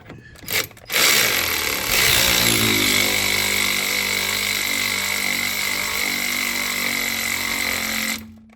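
A power tool spins hard on the suspension end links of a Buick Grand National, giving a loud continuous whine for about seven seconds. It follows a few short bursts and cuts off abruptly.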